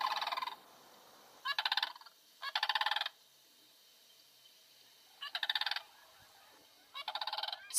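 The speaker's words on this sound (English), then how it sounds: "A guttural trumpet carries through the tule fog, as it has done so for millions of years." Sandhill cranes in a foggy California wetland give five loud rattling trumpet calls at irregular intervals, each lasting under a second, with quiet between them.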